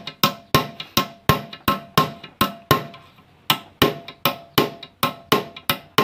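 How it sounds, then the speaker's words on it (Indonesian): A hammer strikes a chisel again and again to cut out the rivet on a loose tie rod. The sharp metallic blows come close and steady, about twenty of them in six seconds, with no voices. "Kita harus membongkar kelingan ini sahabat nih dengan cara manual menggunakan pahat"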